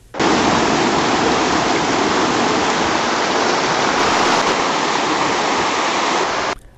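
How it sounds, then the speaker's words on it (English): Loud, steady roar of the Ganges river in rainy-season flood, rushing water dense and continuous from start to finish, with no voices. "there was a lot of water in the river"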